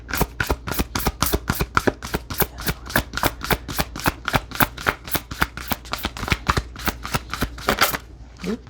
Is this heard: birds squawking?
no